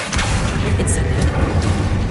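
A fire spell cast in Hogwarts Legacy lands as a dense, rumbling burst with a deep low roar lasting about two seconds, loud and close, with a crackly sizzle near its start.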